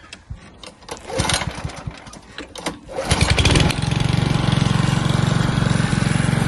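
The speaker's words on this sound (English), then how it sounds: "Let's give it a go. There we go, let's get a bit of throttle on." A Honda HRD 536 lawn mower is pulled over and catches, first uneven sputtering and a brief surge, then settling into a loud, steady, close-up running drone.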